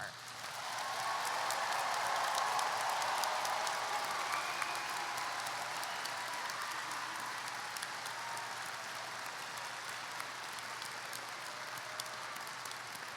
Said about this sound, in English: Let's have one final round of applause recognizing the class of 2024.